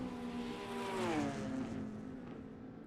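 McLaren and Ginetta GT4 race cars lapping Bathurst in a racing sim: a steady, moderately faint engine drone whose pitch sweeps up and down as the cars rev and shift.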